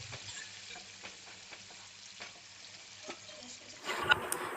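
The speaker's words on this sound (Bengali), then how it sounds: "সব সবজিগুলো ভালো করে নেড়ে চেড়ে ভাজা করে নিতে হবে।" Mixed vegetables with capsicum stir-fried in a pan for egg fried rice, a soft steady sizzle broken by repeated spatula scrapes and taps, with a louder burst of frying near the end.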